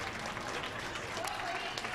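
Crowd at a curling club final applauds steadily, a dense, even wash of clapping with scattered cheers heard from within the room.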